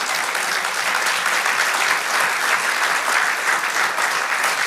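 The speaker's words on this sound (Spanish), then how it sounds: "Sí, da el aplauso, Señor." A congregation claps during a church sermon, a sustained and fairly loud wash of many hands that continues evenly from start to finish with no break.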